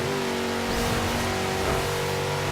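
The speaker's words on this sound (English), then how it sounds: "Come on, that engine has a lot more to give yet." Car engine under hard, sustained acceleration at high speed in Forza Horizon 2, from a four-wheel-drive car, a loud steady roar with rising tonal whine and no pauses.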